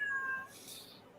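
A cat gives a single short meow, fairly faint against a quiet background, with no talking.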